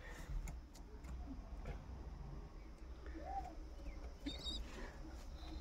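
Jacobin pigeons with a young chick give a faint, soft coo and a few small chirps, fairly close, in a quiet loft with low background hiss and light ticking noises.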